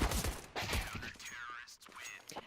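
Rapid video-game gunfire in a competitive tactical shooter match, a Glock firing a quick burst for a headshot, several sharp shots close together under a caster's voice.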